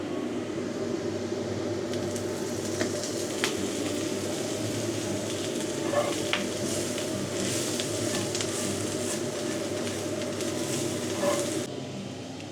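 Onion frying in oil in a cast iron skillet, a steady soft sizzle with faint crackles and a low background hum, continuous throughout.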